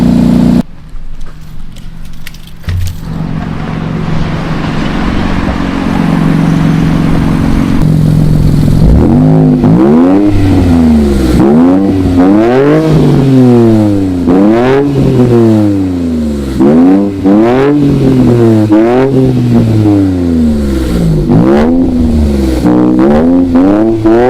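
An Infiniti Q50 VR30 engine idles, then revs hard over and over in rising and falling bursts through new lower downpipes, loud and raspy from the exhaust, close by.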